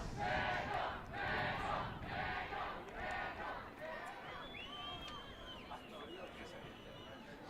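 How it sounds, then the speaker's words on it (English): A crowd at a Mexico versus Jamaica rugby sevens match roars and chants in rhythmic surges, loud at first and then easing into a steady background hubbub with scattered shouts. "the crowd is loving this."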